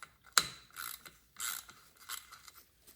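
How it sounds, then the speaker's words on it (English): An oil filler cap being unscrewed on a Husqvarna 450 Rally motorcycle gives a sharp mechanical click, followed by several brief ratcheting, scraping turns, close and fairly quiet, with no talking. "We're gonna fill the bike with oil, so we gotta unscrew this cap real quick."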